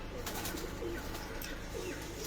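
Pigeons coo softly and repeatedly, low throaty calls rising and falling against a steady background hum.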